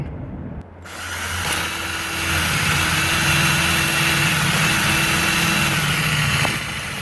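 A power drill whirs steadily up close, drilling into the ignition lock cylinder of a 1995 Chevrolet Cavalier, a continuous motor whine holding for several seconds with no talking.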